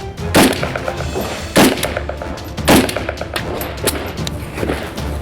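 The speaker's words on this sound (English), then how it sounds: "We clip the magazine, get the first round into a chamber, and then we can shoot." A semi-automatic gun is fired repeatedly, with four loud, booming shots spaced about a second apart, each followed by a ringing echo over a steady outdoor background.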